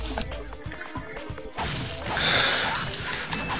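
Bolt pickups in the Ratchet & Clank video game: a busy stream of bright metallic clinks and ratcheting mechanical clicks piles up over game music and effects, swelling into a dense shimmering rush near the end.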